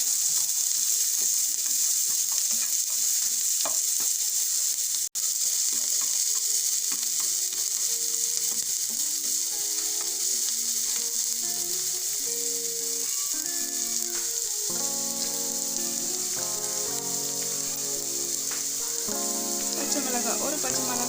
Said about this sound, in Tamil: எடுத்து வச்சிருக்க வெங்காயம் போட்டு நல்லா மிக்ஸ் பண்ணிக்கலாம்.